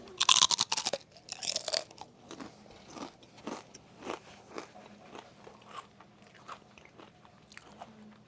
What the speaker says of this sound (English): Let's listen to that crunch because I perfected it.